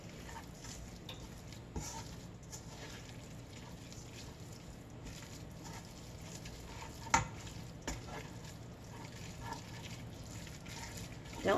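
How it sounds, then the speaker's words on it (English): Cheese being stirred as it melts into macaroni in a pan over moderate heat, giving a soft, continuous low sizzle with faint scraping and a few small spoon clinks, no talk. "Stir it around because we don't want fried cheese in our recipe."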